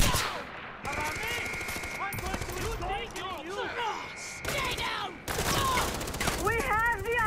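Mounted gun fired in Far Cry 4, loud bursts of automatic fire recurring through the clip amid explosions and game noise, with voices talking over it.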